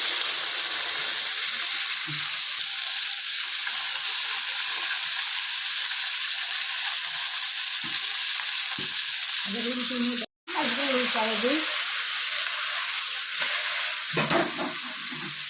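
Fish sizzle in hot oil in a pan in a home kitchen, a steady frying hiss running throughout with brief stirring and clatter sounds, close and fairly loud.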